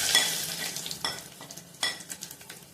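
Onions with coriander powder, red chili powder and sambar masala fry in hot oil for hotel-style sambar, a steady close sizzle broken by a few sharp stirring scrapes of a spoon in the pan.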